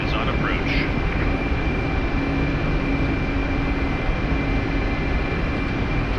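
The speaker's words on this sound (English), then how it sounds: "Helicopter is on approach." Mi-8MTV2 helicopter in the DCS flight game on approach in an arctic mission: a steady, loud, continuous engine and rotor drone, with a faint radio voice chirp near the start.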